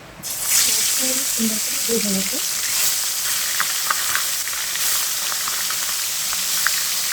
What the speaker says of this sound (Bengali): এটা একটু লাল করে ভেজে নিতে হবে কয়েকটা মাছ দিয়ে দিয়েছি